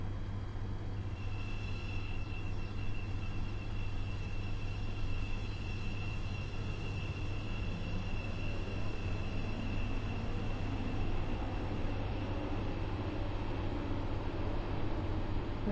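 Class 755 train in the Stepford County Railway video game, a steady, even running rumble with a constant low drone and faint high whine, unbroken for the whole stretch and with no voices.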